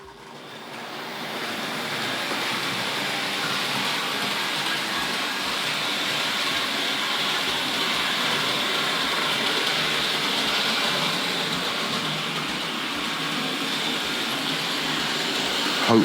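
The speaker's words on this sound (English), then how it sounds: "Let's run this Dublo train around one more time." A Hornby Dublo model train runs steadily around its track, a continuous close rumbling whir that holds at an even level for the whole stretch with no talk over it.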